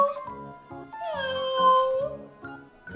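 A robotic toy cat gives a long, wavering electronic meow, close and fairly loud, set over a steady pulsing mechanical chirping pattern that repeats before and after the cry.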